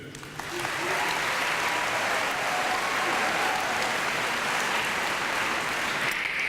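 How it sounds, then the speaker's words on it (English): Sustained, dense applause from a school concert audience welcoming the host, rising after a brief quieter start and holding steady and loud to the end. "give a great big round of applause"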